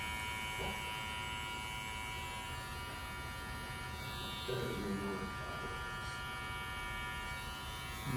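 Electric hair clippers buzz during a drop fade haircut, a faint, steady hum running throughout while someone talks nearby.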